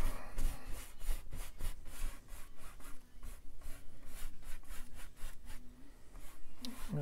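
A brush or cloth rubs paint out on a mountain landscape canvas in quick, repeated scrubbing strokes, close and fairly quiet, with no talking.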